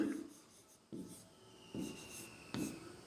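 A pen writing on paper in four short bursts of scratchy strokes, each separated by a pause, quiet and close.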